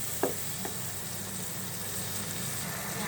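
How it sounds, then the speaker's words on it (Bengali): Spice masala for chicken rezala sizzles and fries steadily in a pan, a soft continuous hiss that stays faint and even throughout, with a couple of small clicks near the start. "মশলাটাকে ভালো করে মিশিয়ে কিছুক্ষণ কষিয়ে নেব"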